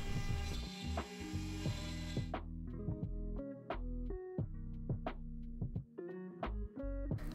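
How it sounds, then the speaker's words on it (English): A four-axis CNC mill machining a brass utility knife handle gives a steady whirring tone for about two seconds, then ticks and clicks with stepped, shifting pitches while the axes move together. "It was really nice watching the simultaneous four-axis machining."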